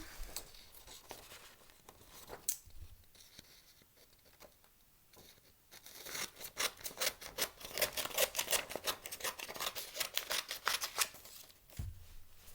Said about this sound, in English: this time we're going to try and cut a square out of it